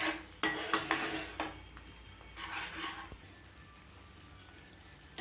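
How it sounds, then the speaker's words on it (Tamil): Almond halwa is stirred in a pan, with scraping spoon strokes against metal and soft sizzling, several bursts then quieter stirring, close and without talk. "நல்லா கிளறி விடுங்க."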